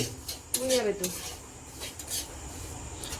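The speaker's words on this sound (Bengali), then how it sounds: "তবে এত নাড়তে হচ্ছে" A spoon scrapes and clinks around a pot of semolina cooking in milk, a few close metallic stirring strokes over a low background, with faint voices nearby.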